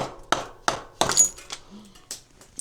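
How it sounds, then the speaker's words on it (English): A wooden sledgehammer striking parts while assembling an Ozark Trail M.2 ridge rack, landing about seven sharp knocks at a loose irregular pace at close range, with a few faint incidental noises between blows. "we'll get our wooden sledgehammer"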